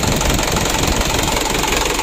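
A diesel engine, fouled with jelly-like oil sludge and hard to start, idles roughly at around 600 rpm, shaking with a dense, steady knocking rumble heard close up and alone.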